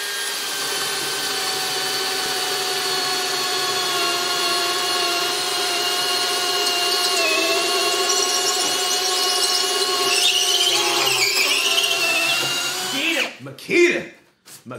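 Ridgid and Makita hammer drills bore on speed one with half-inch self-feeding spade bits, a steady loud whining squeal with rising pitch near the end before cutting off, then brief knocks.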